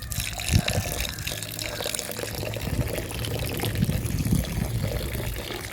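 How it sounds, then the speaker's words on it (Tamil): Water pours steadily into a pot of intestine curry, giving a continuous splashing, gurgling stream that runs close and fairly loud throughout with no break. "இப்போ தண்ணி ஊற்றுங்க."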